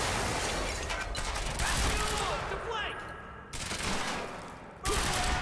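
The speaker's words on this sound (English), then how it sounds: "Light machine gun, yeah." Light machine gun fire in the video game Quantum Break rattles in rapid, loud bursts separated by short pauses.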